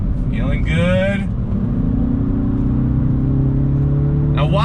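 A 2021 Mini Cooper S convertible with a 6-speed manual accelerates on throttle, its engine note rising steadily and close while someone talks briefly at the start and end.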